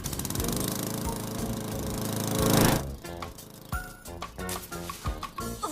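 A cartoon lawn mower tethered to a central stake drones loudly with a rough, buzzing engine for a few seconds, then cuts to sparser clattering and thumping noises, with no speech.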